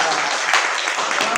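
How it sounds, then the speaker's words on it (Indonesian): A short burst of steady applause fills a classroom, with many hands clapping together at close range. "Alhamdulillah, tepuk tangan"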